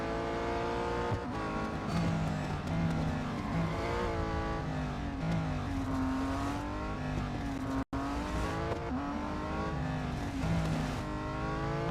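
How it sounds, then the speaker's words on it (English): Race car engines roar and rev continuously in the Real Racing 3 mobile racing game as cars overtake, the engine pitch rising and shifting through gears at a steady, moderate level, with no talk. "I just need to overtake 2 more cars."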